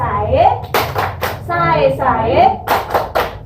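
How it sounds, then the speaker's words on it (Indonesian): Group rhythmic clapping game, tepuk sai, at a child protection training session: sharp clustered claps land in short bursts between sung and spoken voices leading the chant. "Kita tepuk sai dulu nggih"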